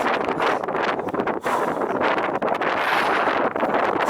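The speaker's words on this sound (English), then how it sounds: "I don't know if you can hear me because it's very windy" Strong wind on a coastal hill walk buffets the microphone in a steady, roaring rumble with brief dips, continuous for the whole stretch.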